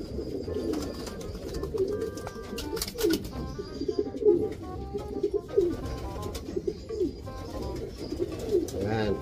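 Racing pigeons coo steadily in a loft, several birds overlapping in soft, repeated rolling calls at close range, with a faint shuffle of movement in the background.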